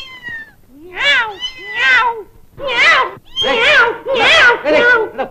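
A man mimics a cat's meow, giving a run of six or seven loud, drawn-out yowls in quick succession. The voice is close and strained.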